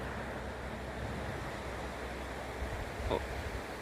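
Clean water flowing in a roadside stream on a bicycle tour between Artvin and Hopa, heard as a steady, close rushing wash that carries on evenly with no voices.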